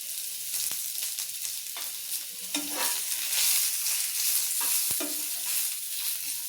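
Grated coconut roasts in hot oil in a pan for misal pav, giving a steady close sizzle with soft scraping stirs and occasional sharp ticks.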